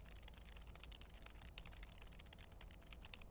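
A character in the video game Lake types on a keyboard, producing rapid, continuous key clicks. The typing is faint and close, with no voices.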